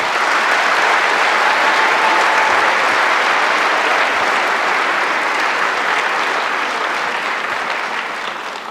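A school orchestra concert audience claps in sustained, dense applause that fills a hall, loud and even before tapering slightly toward the end.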